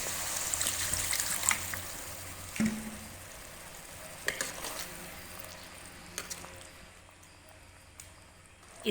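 Mutton liver cooking in a karahi with a little water added gives a faint sizzle and bubble, with intermittent clinks and scrapes of stirring, quiet and close.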